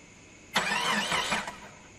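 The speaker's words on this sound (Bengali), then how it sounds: "ফিরে এসে গাড়িটা স্টার্ট দিয়ে দেখে গাড়ির ইঞ্জিনের সমস্যা।" A car engine cranks and catches in a cartoon sound effect, one bright, roaring burst lasting about a second before cutting off abruptly, close and loud against a quiet hiss.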